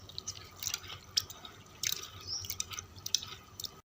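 Moong dal being rinsed by hand in clean water: soft, quiet drips, squishes and sloshing splashes in irregular bursts, close up, with no talking.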